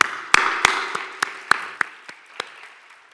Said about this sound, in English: a final round of applause for our two speakers